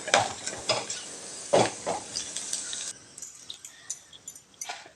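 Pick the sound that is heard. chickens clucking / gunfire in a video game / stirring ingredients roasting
stirring ingredients roasting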